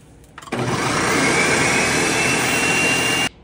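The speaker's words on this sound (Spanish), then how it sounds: "ya lo puse en la licuadora. Vamos a molerlo." A kitchen blender grinds cooked stew for zucchini fritters, whirring loudly and steadily for about three seconds after a brief start-up before it cuts off sharply, with no talking over it.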